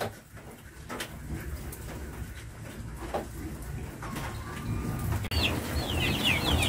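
Free-range chickens clucking around a Vietnamese farm coop, several birds making soft repeated clucks and calls, with a brief sharper squawk near the end amid light ambient noise.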